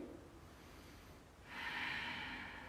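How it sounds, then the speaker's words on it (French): Slow, soft breathing during a yoga pose, a quiet inhale followed by a louder airy exhale through the nose, close and alone. "On prend le temps de respirer."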